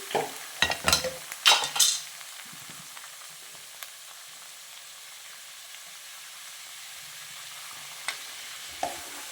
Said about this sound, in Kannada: ಬಟಾಣಿ ಈಗ ಎಣ್ಣೆನಲ್ಲಿ ನೋಡಿ ಸೌಂಡ್ ಬರ್ತಾ ಇದೆ